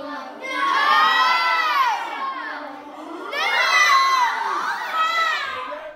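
A group of children shriek and cheer loudly in reaction to a magic trick, two big swells of excited screaming with a brief dip between, close and sustained.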